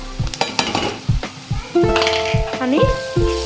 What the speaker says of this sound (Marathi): त्याच्यानंतर लसूण आणि मिरच्यांची पेस्ट करून घेतलेली मी थोडंसं आरबट हे बघा हे टाकूया